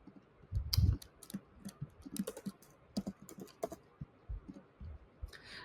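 Typing on a computer keyboard while entering a metric search in alert-setup software: quiet, irregular clusters of soft key clicks, close and faint, with a louder thump near the start.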